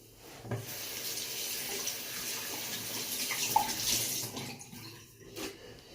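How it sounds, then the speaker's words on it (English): A tap runs steadily into a sink while hands are washed under it, the water rushing close and fairly loud for several seconds, then tapering off with a few splashes at the end. "Go ahead and wash my hands again."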